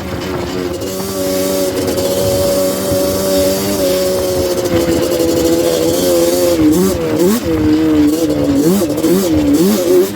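A Yamaha Banshee ATV engine revs hard in snow, a loud, close two-stroke whine rising and falling in quick bursts toward the end.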